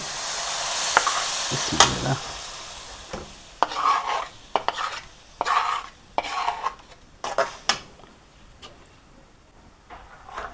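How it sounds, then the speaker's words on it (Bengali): Chhana stirred in a pan while making homemade ghee, irregular scraping and clinking of a spoon against the pan over a soft sizzle, close and moderately loud, no talk. "এখন এইভাবে ঘন ঘন নাড়তে হবে"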